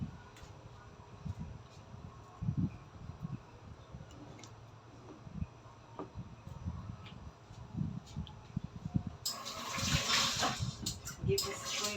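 Water poured from a container onto chicken pieces and potatoes in a baking tray, a soft steady trickle under low background noise, rising to a brighter, louder splash near the end.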